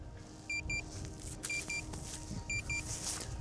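Pairs of short electronic beeps repeat at regular intervals from a drone remote controller signalling return-to-home, over a low steady rumble of background noise.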